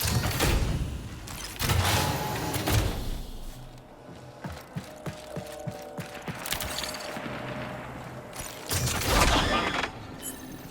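Turret fire in the game Marathon, loud bursts of rapid shots coming in heavy waves with mechanical clanks and thuds between them, near and harsh.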